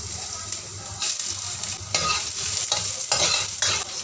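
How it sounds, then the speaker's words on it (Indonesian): Four slices of ginger and minced garlic stir-fry in hot oil in a wok, giving a continuous close sizzle broken by repeated scraping strokes of the spatula. "Kita panaskan wajan dengan minyak, lalu kita tumis 4 lembar jahe dan bawang putih cincang."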